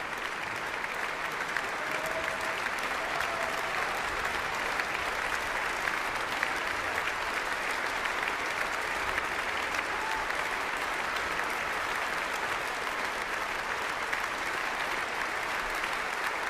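Sustained, unbroken audience applause at a piano concert by pianist Nobuyuki Tsujii, a steady wash of many hands clapping for an encore, even and continuous with no voices.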